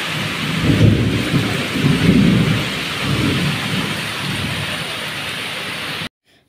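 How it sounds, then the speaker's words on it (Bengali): Rain begins to fall outside a kitchen with thunder rumbling, a steady wash of rain and deep rolling thunder for several seconds before cutting off abruptly. "দেখো শুরু হয়ে গেল বৃষ্টি"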